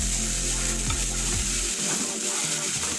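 Steady sizzling and frying of chopped soybean chunks in a pan, with a few scraping stirs early on, continuous and fairly close throughout.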